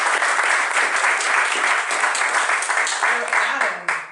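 Loud, dense applause from an audience fills the room steadily throughout, thanking a host for lending his office, with a few louder claps standing out near the end.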